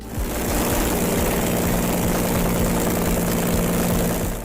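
A loud, steady aeroplane engine on a motorcycle, a 300 horsepower Rolls-Royce Continental, drones close by with a deep rumble and a constant pitch, running throughout without a break.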